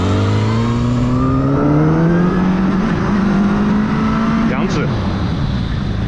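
A KOVE 450R four-cylinder street motorcycle under way, its engine note climbing steadily in pitch as it revs and accelerates, then dropping sharply near the end, loud and close with a voice talking over it.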